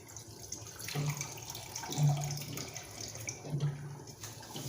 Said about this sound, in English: Now I only want enough water just to cover the potatoes.